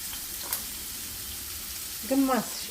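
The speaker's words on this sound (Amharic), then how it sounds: "አሁን መጥበሻዬ ላይ ትንሽ ዘይት አድርጌያለሁ። አሁን ሽንኩርቱን አደርጋለሁ ማለት ነው።" Onions go into a pan with a little oil for an Ethiopian dish, giving a soft steady sizzle close by, with a brief voice rising over it near the end.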